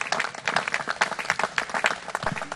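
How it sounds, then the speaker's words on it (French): An audience applauding for Full Gospel at a church gathering, dense steady clapping from a crowd throughout. "On peut acclamer pour Full Gospel."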